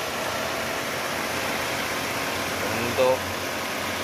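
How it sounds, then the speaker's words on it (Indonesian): An Opel Blazer engine idles smoothly and steadily, a low even hum with a brief soft knock partway through. "Pastikan suara mesinnya halus seperti ini, tidak ada suara yang aneh-aneh"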